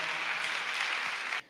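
A short burst of dense audience applause for a startup at a tech pitch event, many hands clapping in a steady wash before it stops abruptly.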